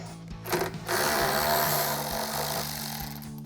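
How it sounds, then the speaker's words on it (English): A ratchet with a 10 mm socket spins a nut off a mounting bracket on a 2021-2024 Ford Bronco 4-door, giving a steady, close mechanical whirring buzz for about three seconds with no talking. "So we'll grab our 10 mil socket on our ratchet and go ahead and pop that nut off."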